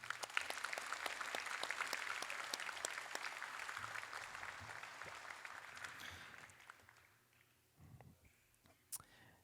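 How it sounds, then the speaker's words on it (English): Applause from an audience at a school class night honoring scholar athletes, dense clapping for about six seconds before thinning out to scattered claps and faint murmuring. "Another big round of applause for our scholar athletes"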